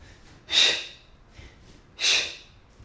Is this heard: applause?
no